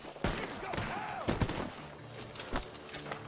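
Gunfire rings out from a barn in the video game Red Dead Redemption 2, several sharp booming shots spaced over a few seconds amid clattering action and game sound.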